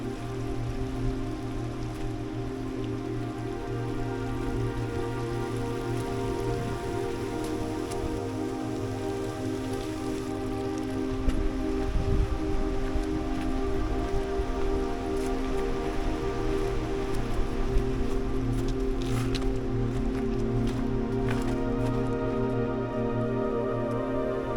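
Rain falls steadily on a hike in Yosemite, a dense continuous patter of drops on surfaces with a low hum beneath and slightly louder bursts midway, no talking.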